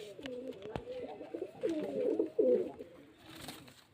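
Pigeons for sale coo in soft, rolling bursts nearby, with a sharp click and faint background noise between calls.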